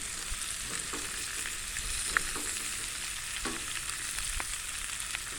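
Steak frying in a pan alongside wilted kohlrabi greens, a steady crackling sizzle with occasional stir scrapes and one sharp tick, close and continuous, no speech.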